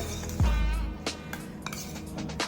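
A utensil clinks and scrapes against a pan while coriander leaves are mixed into a milk-cream (malai) mixture, with a dull knock early on and then light, scattered clicks. Close and fairly quiet, with no talking.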